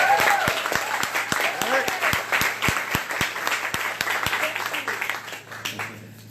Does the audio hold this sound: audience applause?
yes